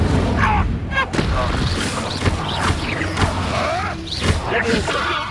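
The Incendio fire spell cast repeatedly in Hogwarts Legacy: sharp whooshing bursts and crackling impacts recur every second or so amid game combat sounds, with a voice shouting over them.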